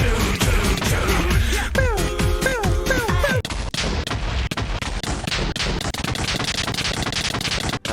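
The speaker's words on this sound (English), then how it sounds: "Now that was a lot of explosions that I just went through" Loud, dense explosions in the Minecraft Nether, with repeated booming blasts and rumbling over in-game music, the bursts fast and continuous for the whole stretch with no speech.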